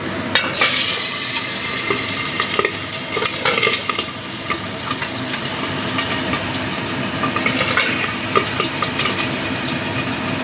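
Tangra fish frying in hot oil in a covered pan, a continuous loud sizzle with frequent sharp spattering pops and crackles throughout.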